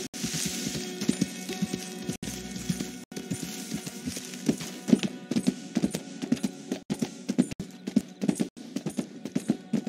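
Horse hooves clip-clopping at a steady gait in the video game Red Dead Redemption II, a continuous rhythmic pattern of fairly close footfalls with a faint low rumble underneath and no voices.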